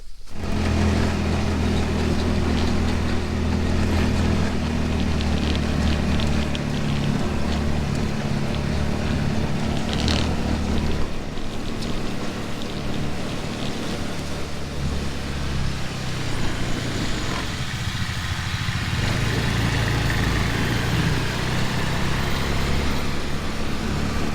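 A tractor's engine drones steadily with a low rumble and mechanical whir, continuous and fairly close as it mows a field, with no talking.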